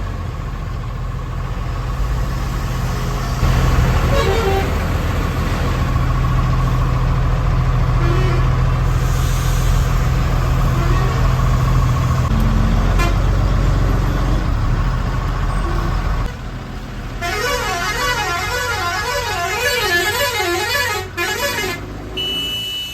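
Heavy traffic jam on a potholed road near the Narmada river bridge between Dahej and Bharuch, with buses and cars idling in a steady engine rumble while several car horns honk, some in long repeated warbling blasts near the end.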